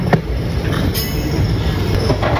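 An ICF passenger coach running on rails at night, with loud continuous rolling rumble and rail noise and faint periodic clicks of wheels over joints, heard from inside the train with no talking.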